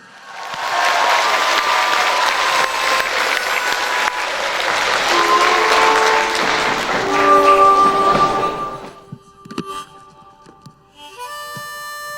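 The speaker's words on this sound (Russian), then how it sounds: "Поддержите наших маленьких артистов громкими аплодисментами!" Hearty audience applause at a children's recital of an art studio, loud and sustained for about eight seconds before dying away. Scattered claps and musical tones follow.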